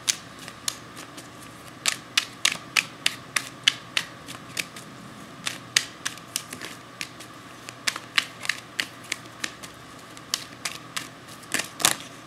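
Tarot cards are cut and laid out one after another, making a close series of crisp snaps and light slaps at an uneven pace over quiet room tone.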